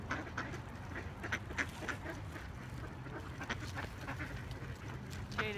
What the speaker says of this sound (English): Oh, here comes the geese.